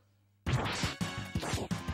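Mega Man X2 Shoryuken uppercut attack in gameplay, a sudden burst of punchy game impacts and whooshes breaking out of silence, followed by several further sharp hits in quick succession.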